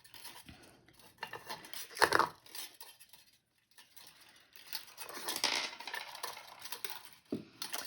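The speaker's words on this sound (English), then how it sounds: "The wire, because we need quite a long length, it is going to flick around a little bit. That's what you can hear kind of making the noises" A long length of craft wire flicks and rattles while being wrapped into a rose, giving light metallic clinks and scrapes in uneven bursts, with a quiet pause in the middle.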